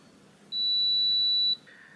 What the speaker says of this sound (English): once you hear a long beep and the select button turns green, it means the reset is complete